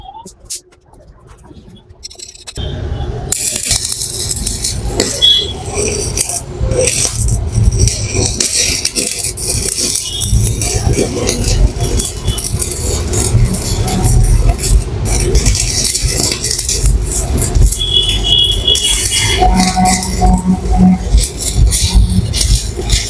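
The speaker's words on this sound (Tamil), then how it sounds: "இப்போ இந்த மிஷின் நம்ம வெல்ட் அடிச்சு பார்த்துடலாம்." A Toshon ARC 250 ST arc welding machine welding. A steady, harsh crackling hiss starts after a couple of quiet seconds and continues loud and unbroken to the end.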